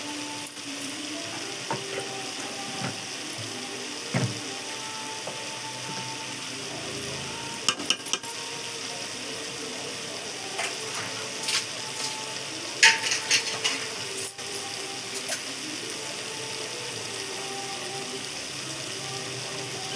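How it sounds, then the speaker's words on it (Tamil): Chicken biryani masala sautéing in a pan, a steady close sizzle with scraping and stirring strokes throughout, no talk. "ஒரு வதக்கு வதக்கலாம். அடி பிடிக்க விடாது, அது வதக்கு வதக்கலாம்."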